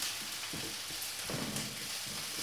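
Fresh asparagus sizzles in a hot frying pan, a steady, close crackling hiss with a few soft stirring bumps and swells, no voices.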